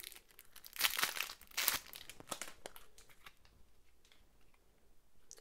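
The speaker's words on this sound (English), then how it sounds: "we have two decks of cards, so we'll open up both of them" Two decks of cards for the Heroes of Normandie board game are unwrapped, giving bursts of crinkling, tearing plastic wrap that peak early and then fade into softer rustling, close and alone.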